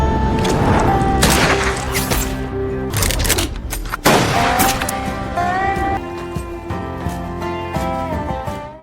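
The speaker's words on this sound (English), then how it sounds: "Jake then shows Cassie his shooting skills" Gunfire in a shooting skills demonstration: several sharp, loud shots ring out close by at uneven intervals, the sharpest burst near the middle, while steady background music runs throughout.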